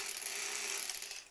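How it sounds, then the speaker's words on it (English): A sewing machine chain-pieces quilt squares one after another, running in a fast, continuous mechanical clatter of needle and gears for just over a second, close and fairly quiet. "you see how I'm sewing one right after the other? That's called chain piecing"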